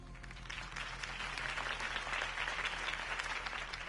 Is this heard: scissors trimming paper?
no